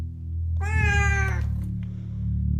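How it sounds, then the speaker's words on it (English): A single soft, drawn-out meow from a cat, close by, over a low steady hum. "The cat blinks and lets out a soft meow."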